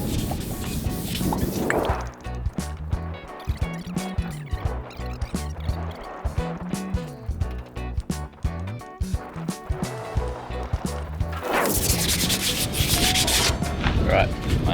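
A trawler rudder shaft being sanded by hand with 400 grit sandpaper, a close rhythmic rubbing that keeps up a quick back-and-forth stroke pattern throughout, getting harsher near the start and the end.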